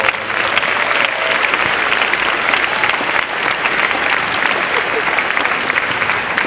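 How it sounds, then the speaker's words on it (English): A school convocation audience applauds steadily and loudly, dense clapping filling the whole stretch with a broad crowd wash and no pauses. "Let's give Ms. Robinson a round of applause"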